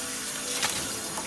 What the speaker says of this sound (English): We have the bowl under, so it'll start spilling out.